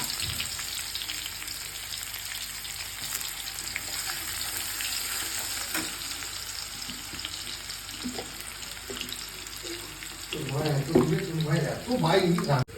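Onions fry in hot oil in a pan for a Bengali katla fish curry, giving a steady, dense sizzle with scattered pops; a voice joins near the end as the frying grows louder.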